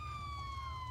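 Police car siren in a roleplay video game, a steady wailing tone sweeping slowly downward, moderately loud and alone for under a second.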